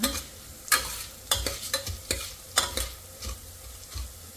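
Spices sizzling in a hot pan for a country-style mutton gravy, with scattered stirring scrapes over a faint, steady frying hiss; no voices.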